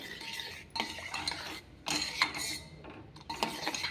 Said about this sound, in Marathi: पूर्ण गूळ वितळा की आपण थंड करून घेणार आहोत